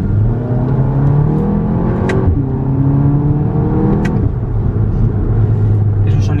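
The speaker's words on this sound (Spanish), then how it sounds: "¿Queréis escuchar el sonido del motor?" A Cupra Ateca with a DSG gearbox drones steadily at speed on a fast road, loud and continuous engine and road noise with brief shifts in pitch, heard from inside the car.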